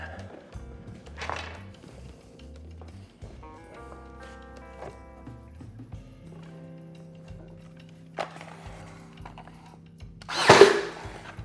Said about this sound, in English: I went ahead and put 3/4 inch nails in my nail gun here, since I'm just going through this little shoe